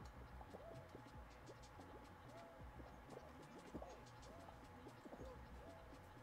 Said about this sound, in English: There's two pigeons.